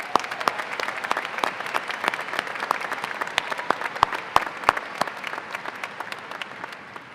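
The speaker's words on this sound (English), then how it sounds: "please give all of our University of Montana staff members a round of applause" A large audience at a University of Montana spring commencement applauds staff members, a dense, sustained roar of clapping with scattered sharper claps close by, even and continuous throughout.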